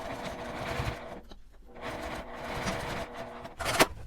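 A sewing machine stitches small pieces of laminated fabric for a tiny coin pouch, running in steady humming bursts with a short pause between, close by, ending on a sharp mechanical clack.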